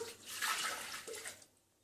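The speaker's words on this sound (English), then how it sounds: "So I'm just putting in 500 ml of water" About 500 ml of water is poured into a Thermomix, a short splashing rush close up. It fades out after about a second and a half.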